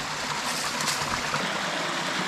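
A mountain stream pours down a waterfall, producing a loud, steady broadband rush of splashing water close by with no break.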